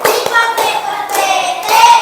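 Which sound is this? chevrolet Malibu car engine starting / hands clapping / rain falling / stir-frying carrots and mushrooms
hands clapping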